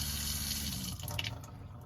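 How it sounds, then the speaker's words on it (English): Tap water runs steadily from the faucet of a 2021 Promaster off-grid camper van conversion, flowing through its water heater; a continuous close hiss and splash that shifts slightly partway through. "just turn it on and that'll send the water through the water heater, and you got hot water"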